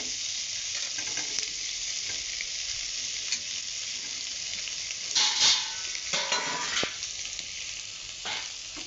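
Potato and soya chunks fry in hot oil for a vegetarian soya and pointed gourd curry, with a steady close sizzle and a few scraping stirs near the end; no voices.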